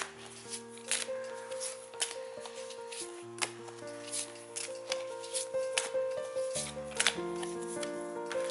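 Oracle cards are shuffled, slid and picked from a deck, with soft close-up rustles and sharp flicks over a background of gentle sustained musical tones.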